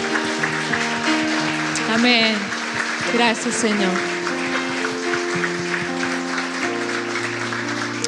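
A church congregation clapping in praise, a steady bed of applause running under sustained music and a voice speaking over it throughout.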